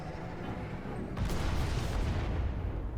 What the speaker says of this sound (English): at least I have a nice satisfying explosion